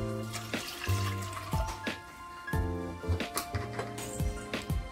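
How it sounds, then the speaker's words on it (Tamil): Water pours in bursts into a pressure cooker holding moong dal, splashing and gurgling close up with a few pauses between pours and no talk. "1/2 கப் சிறுபருப்புக்கு 2 கப் வந்து தண்ணியை ஆட் பண்ணிக்கோங்க"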